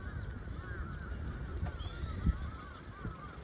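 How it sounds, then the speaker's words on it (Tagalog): Many geese-like birds fly overhead, giving repeated honking calls that overlap at moderate distance over a low background rumble, with one sharp thump near the middle. "Ang dami naglipad-lipad ng mga ibon."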